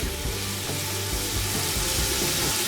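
Onions and garlic frying in a pan on an electric hob, a loud, steady sizzle with occasional stirring scrapes throughout.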